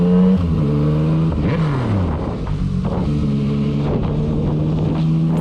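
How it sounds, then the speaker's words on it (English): A motorcycle engine revs up and down with rising and falling tones, then settles into a steady idle, close and fairly loud. "That's a little rev."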